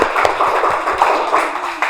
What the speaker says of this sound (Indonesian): tepuk tangan buat anak ibu semuanya